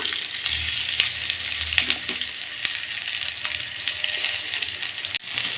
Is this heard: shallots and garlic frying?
yes